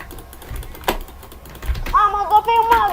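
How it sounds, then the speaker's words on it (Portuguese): Computer mouse clicking during a Minecraft PvP match, a few sharp isolated clicks early on before a voice starts talking over them near the end. "Tem que fazer força pro mouse clicar."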